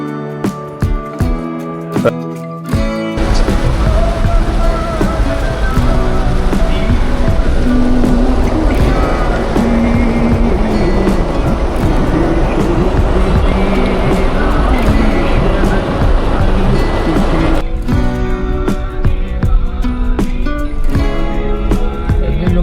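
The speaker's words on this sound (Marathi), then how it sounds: "आज प्रचंड म्हणजे भयंकर पाऊस पडतो." Heavy monsoon rain heard from inside a car stuck in dark, slow traffic, a loud continuous roar and drumming that swells in after a few seconds and stays dense for about fifteen seconds before easing back to quieter cabin sounds.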